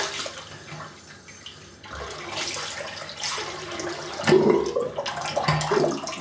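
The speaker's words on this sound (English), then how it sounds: "And just get some hot water in the sink." Hot water runs from a tap into a sink, a steady broadband splash that swells louder partway through and carries on close by with no talking.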